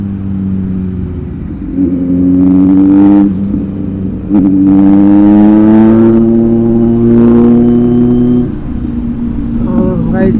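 A superbike engine revs loudly and close by, with repeated rising revs that hold a high droning pitch before easing back to a rumbling idle.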